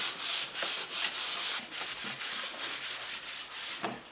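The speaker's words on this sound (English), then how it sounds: "we're going to take some denatured alcohol and wipe it down good" A cloth wipes down a plastic surface with denatured alcohol during a fiberglass repair, making brisk, rhythmic rubbing strokes repeated about every half second, close up and with no talking.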